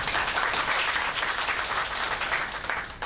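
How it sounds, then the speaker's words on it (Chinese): Warm, continuous applause from an audience of high-school maths teachers at a national teaching conference in Taiwan welcomes the session host, an even, dense clapping that fills the hall from start to finish. "那现在我们以热烈掌声欢迎主持人张纯宁客都"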